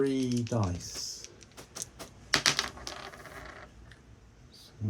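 Three dice roll across the table in a Crossfire tabletop wargame, a brief clattering rattle that follows a voice, with a louder burst of clicks partway through.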